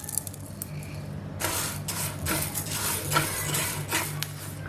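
Brown rice being dry-roasted in a pan, with grains rattling and a utensil scraping and clinking against the metal in repeated strokes, close and moderately loud over a low hum.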